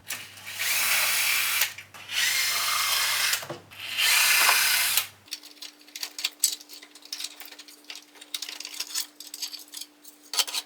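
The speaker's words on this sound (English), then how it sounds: "You have to undo these 2 side bolts here and then the one under there, and then you can slide off this whole front piece." A power tool whirs in three short bursts as bolts are undone on a Skeeride ride-on toy, then stops, leaving faint clicks and handling noises close by.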